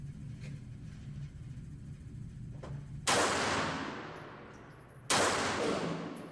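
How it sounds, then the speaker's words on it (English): Two sharp, loud reports from a Beretta 84B .380 pistol fired at an indoor range about 36 feet from the target, the second about two seconds after the first, each followed by a decaying echo. "This gun is just so easy to shoot."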